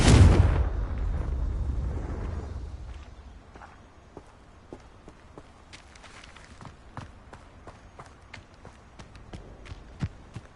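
A Confringo spell explodes in the Hogwarts Legacy video game, with a loud close blast and rumbling roar that fades over about three seconds, followed by scattered sharp clicks and small impacts.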